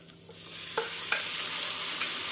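Onions sizzle and fry in a hot pan, with a few sharp stirring clicks and scrapes over the steady crackle.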